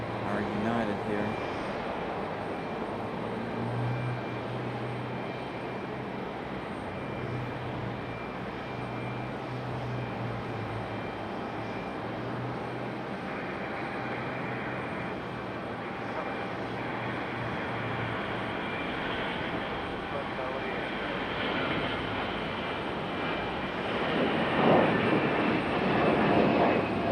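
A Delta airliner taxis at Raleigh-Durham airport, its jet engines giving a steady broad roar that swells near the end. Someone talks over the engine noise.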